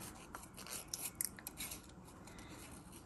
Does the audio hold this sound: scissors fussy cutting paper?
yes